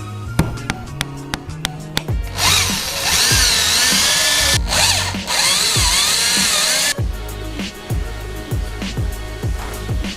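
A power drill whirs into wood in bursts, a long loud run in the middle, with clicks and short revving spurts before and after, close up.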